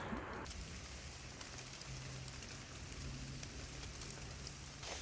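Steady rain pattering outdoors in the Scottish countryside near Aberfeldy, a soft continuous hiss of drops on surfaces at low level, with no voices.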